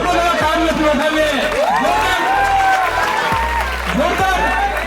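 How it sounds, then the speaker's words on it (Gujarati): At a village welcome ceremony for a guest in Gir Somnath, a crowd applauds in a steady, rough patter beneath a loud voice addressing the gathering. "આપણે બધા તાળીઓથી વધાવીએ."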